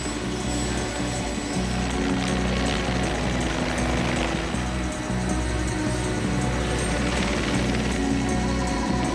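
Helicopters fly at Silverstone airport during a Formula 1 event, making a loud continuous rotor and engine drone that stays steady throughout, with no voices.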